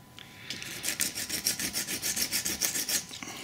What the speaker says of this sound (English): And I'll just sand them down